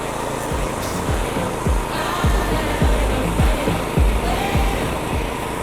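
A push mower's blades whir and clatter through grass in a steady rhythm of repeated strokes, close by over a constant outdoor hiss.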